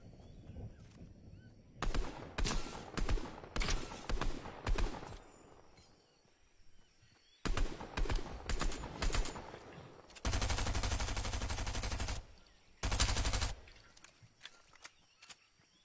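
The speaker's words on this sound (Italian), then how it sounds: "Sento spari." Rapid bursts of automatic gunfire in a video game come in several loud volleys separated by short pauses, with a sustained roar of shooting in the middle.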